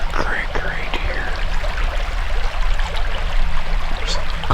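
A creek in the Pennsylvania Big Woods during archery season rushes and trickles steadily nearby where it meets a larger creek, with someone speaking quietly over the water.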